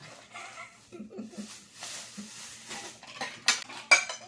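Small bowls clink together a few times, with sharper knocks near the end, over a quiet indoor background.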